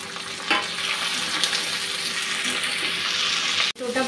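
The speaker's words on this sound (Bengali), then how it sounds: "এখন টমেটো আর কাঁচা লঙ্কাটা দিয়ে দিচ্ছি।" Tomato and green chilli hit hot oil with a continuous close sizzle and faint stirring scrapes, cutting off sharply near the end, with no voices.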